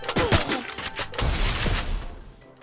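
Rapid bursts of video game gunfire crack out at close range, a dense volley in the first half followed by a few more shots, with no one talking over them.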